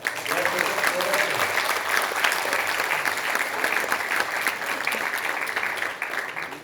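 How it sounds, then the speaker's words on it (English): A crowd gathered at an FHRA India event for farmer producer organisations breaks into steady, sustained applause that fades slightly near the end, with some voices mixed in beneath the clapping. "let us give a big clap for all the FPOs which have collected there"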